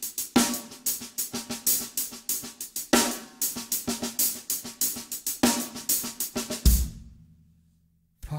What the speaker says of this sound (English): applying a triple paradiddle on the set between hi-hats and snare drum with the correct volumes is going to sound like this.